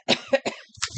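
A short run of close, dry coughs, three quick hacks followed by a softer rasp.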